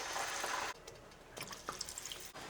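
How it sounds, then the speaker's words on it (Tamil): Water poured from a rinsed mixer jar into a simmering potato curry in a home kitchen, a steady splashing pour that stops and gives way to softer drips and trickles. "இப்போ மிக்சி ஜாரை கழுவி இதுக்கு தேவையான அளவுக்கு தண்ணி ஊற்றிக்கலாம்"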